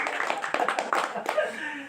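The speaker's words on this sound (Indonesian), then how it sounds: "Oke, tepuk tangan dulu." Audience clapping on a talk show breaks out in a burst of sharp, scattered claps of moderate loudness, mixed with voices talking over it.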